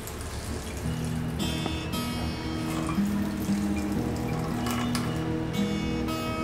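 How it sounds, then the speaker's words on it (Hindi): Cold tap water runs steadily over homemade soft malai paneer made from two litres of milk, a constant close splashing hiss under soft background music. "इसको अभी एक बार और धो लेंगे हम ठंडे पानी से"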